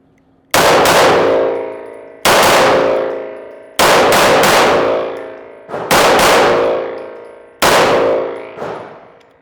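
A MAC DS 9 Comp 2011 pistol, a ported compensated handgun, fires five loud, sharp shots at uneven intervals of about one to two seconds. Each shot rings with a metallic clang that fades slowly, and one quieter report follows the last shot.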